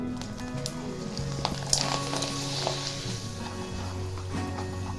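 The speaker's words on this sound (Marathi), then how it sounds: "आता तेल तापलेलं आहे मी तुम्हाला तळून पण दाखवणार आहे" Small rice-flour handi papad fry in hot oil with a soft, steady sizzle and scattered light pops, close and fairly quiet.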